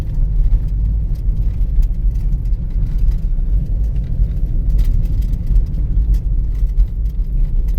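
A car with freshly done brakes and suspension drives along, giving a steady low road rumble and engine hum from inside the cabin, loud and unbroken.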